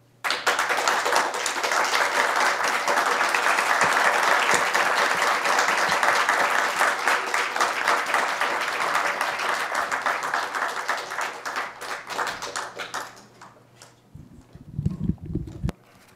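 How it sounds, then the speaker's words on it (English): Sustained audience applause at the close of a lecture on land dispossession and Indigenous justice, loud and dense for about thirteen seconds before tapering off, with a brief low bump near the end. "maybe just give another round of applause for us"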